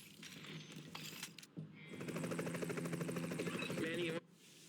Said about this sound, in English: Bring in the helo.